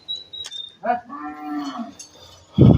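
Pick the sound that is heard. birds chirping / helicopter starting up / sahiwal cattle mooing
sahiwal cattle mooing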